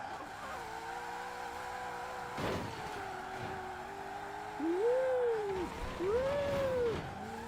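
A 1900HP drag Mustang roars in the racing game Forza Horizon 4, its engine droning steadily, then rising and falling in quick rev swells near the end, loud and without talk.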